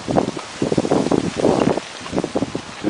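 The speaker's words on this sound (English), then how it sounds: "Can you hear that wind?" Gusty wind in a mountainous park in winter, blowing in rough, irregular buffets against the microphone, loud and close, with no voices.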